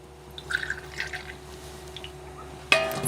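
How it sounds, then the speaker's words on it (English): Homemade beet juice from pressure-canned beets is poured into a glass with a light trickle and a few splashes, ending in a brighter ringing clink of the glass, all fairly faint. "I am gonna pour this juice in a glass and drink it"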